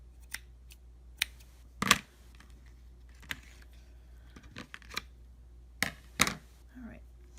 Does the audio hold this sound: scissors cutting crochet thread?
yes